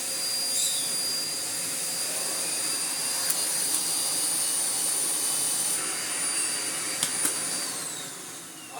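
A Miele Blizzard CX1 vacuum cleaner runs on max power with a loud, steady, high whine and rushing airflow that holds constant throughout and begins to wind down at the very end.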